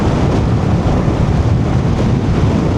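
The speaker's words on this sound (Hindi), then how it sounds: "हल्की हल्की ठंडी ठंडी हवा चली हुई है" A light, cool outdoor breeze on a pleasant morning comes through as a steady, loud, rumbling wind noise buffeting the microphone without letup, with no speech.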